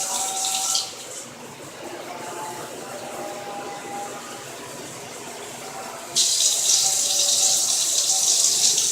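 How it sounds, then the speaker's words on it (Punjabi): Water poured into a cooking pot of Lahori chickpea curry (chanay), a bright rushing splash at the start that stops, then a second steady pour near the end over quiet kitchen background. "2 ਤੋਂ 3 ਕੱਪ ਪਾਣੀ ਦੇ ਡਾਲੂੰਗੀ"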